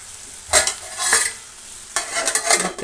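Egg and potato curry stirred in a pan, several bursts of scraping, sizzling stirring, close and fairly loud, separated by brief quieter gaps.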